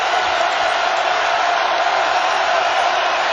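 Home crowd at a college basketball game roaring steadily, a loud, dense wall of cheering and whoops that holds without pause throughout.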